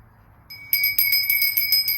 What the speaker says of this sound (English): And now I will ring the bell